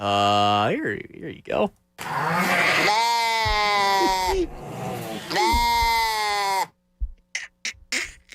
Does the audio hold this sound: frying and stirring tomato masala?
no